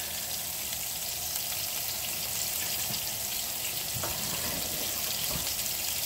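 Meatballs sizzle and brown in a pan over medium-high heat, a steady close-up frying hiss with a few soft pops and shifts as they cook.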